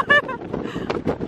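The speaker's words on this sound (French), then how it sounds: "Oh là là, il y a du vent de ouf" Strong seaside wind buffets a handheld microphone on the coast at Kenting, Taiwan, causing rough low rumbling gusts while a person talks over it.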